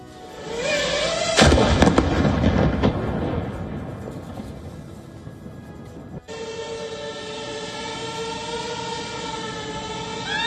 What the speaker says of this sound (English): the drone pursuing an unidentified man around a van being used as a street stand before exploding